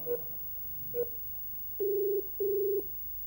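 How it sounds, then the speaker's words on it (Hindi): Phone dialing tones from a call placed on a computer: two short beeps followed by two longer tones, clean and electronic, with quiet background between them. "चलिए कंप्यूटर में फोन लगाया जाए पापा जी को"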